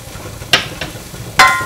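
Cumin and poppy seeds hitting hot olive or sesame oil in a pan, with two short, sharp bursts of sizzle and scraping over a faint, low background.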